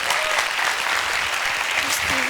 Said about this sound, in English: Give her a warm applause.